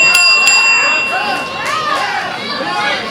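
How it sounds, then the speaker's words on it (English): A wrestling ring bell clangs twice at the end of a match at a live independent wrestling event, bright sharp strikes ringing out over a loud, noisy crowd with cheering and chatter throughout. "he said when the refs called for the bell"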